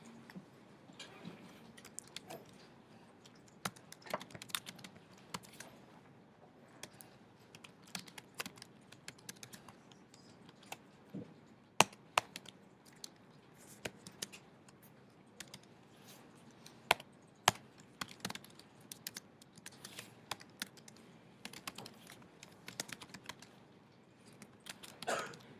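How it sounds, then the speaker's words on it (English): Dense, rapid typing on a computer keyboard while writing an HTML style sheet, with irregular clicking keystrokes running steadily throughout at close range, with no talking. "This is a lot of typing"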